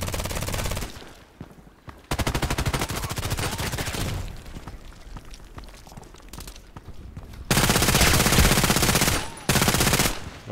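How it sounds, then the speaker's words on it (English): H&K MP7 submachine gun firing in the Contract Wars video game: long, rapid automatic bursts with short pauses between them, loud and close, rising to a harsher, denser burst near the end. "So sometimes you can shoot through the container."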